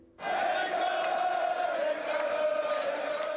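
English football fans packed outside at the 2006 World Cup in Germany burst into loud, sustained chanting and shouting that starts abruptly and holds steady, a massed roar of many voices.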